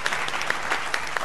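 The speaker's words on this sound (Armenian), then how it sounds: "Ծափարենք" Audience clapping at a wedding toast, a steady dense patter of many hands with no voices, filling the short moment.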